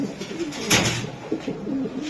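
Low cooing from a racing pigeon murmurs close by against a noisy background, with a short burst of rustling or flapping near the start.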